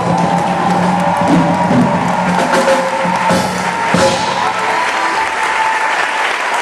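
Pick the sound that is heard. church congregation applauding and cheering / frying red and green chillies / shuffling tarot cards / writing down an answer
church congregation applauding and cheering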